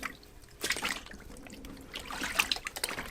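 Krowtann tanning solution trickles and splashes as it is poured into a larger jug, two bursts of liquid pouring separated by a short pause, fairly faint and close.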